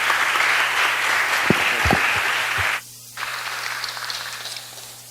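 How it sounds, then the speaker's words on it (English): Applause breaks out for a speaker at a city council planning and land use committee meeting: a room of clapping hands that drops out briefly midway, then resumes at similar strength. "give this gentleman a round of applause"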